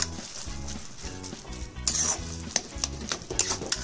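Vegetables for pav bhaji fry and sizzle in a hot pan, stirred with a spatula that scrapes and taps the metal in an irregular rhythm, close and fairly loud.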